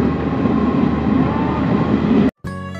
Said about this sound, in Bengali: এখান থেকে আবার ট্রেনটি স্টার্ট হয়েছে।